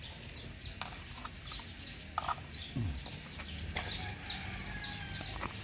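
Chickens clucking in a farmyard, with short repeated calls over steady outdoor background noise throughout.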